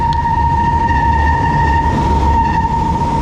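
A train runs past Baclaran station with a loud, steady rolling roar and a sustained high whine, heard alone and close for the whole stretch.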